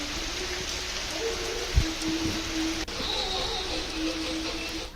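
Heavy rain falling in Chhattisgarh: a continuous dense hiss of downpour with a brief low thump partway through, steady and enveloping with no talking.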